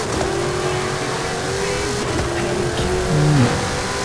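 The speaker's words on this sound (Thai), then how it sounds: "รถตู้ EMS ครับ ไล่แซงซูเปอร์คาร์ไป ครับ" Game engine sounds from an EMS delivery van racing past supercars in Forza Horizon 5, a droning engine tone that shifts pitch as it revs, with passing cars whooshing by and a louder surge near the end.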